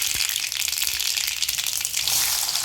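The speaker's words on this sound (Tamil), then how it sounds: "இதில் கடுகு போடுறேன்" Mustard seeds sputter and crackle in hot oil, tempering for a simple home lunch before garlic and onions are added, giving a steady close, dense sizzle with tiny popping bursts throughout.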